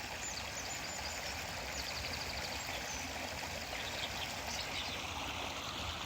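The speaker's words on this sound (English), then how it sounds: "There's a bridge at the bottom of a road near where I live which goes over a little brook" A small brook flows under a road bridge, giving a steady, even rush and trickle of water that fills the scene without pause, fairly close and with no one talking.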